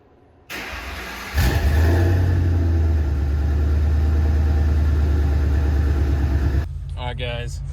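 Car engine barks to life and revs through its exhaust, settling into a loud, deep, rumbling idle close by that holds for several seconds before a voice starts speaking over it.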